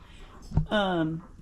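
Roosters among a flock of chickens, one giving a single drawn-out crowing call after a short sharp noise, close and fairly loud.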